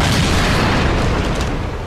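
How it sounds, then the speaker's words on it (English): A burning jerry can explodes in an action movie, a loud, dense boom that fills the clip and decays slightly toward the end, with no voices. "We've had a second explosion to the east."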